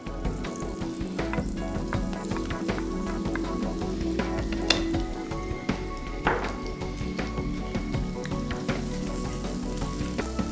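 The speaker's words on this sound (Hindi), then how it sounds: "प्याज और गार्लिक यहाँ पे हल्का हल्का भुनना शुरू हो चुके हैं" Onion and garlic sizzle in a pan for an Andhra chicken curry, a steady close frying hiss with small crackles and pops throughout, no talking.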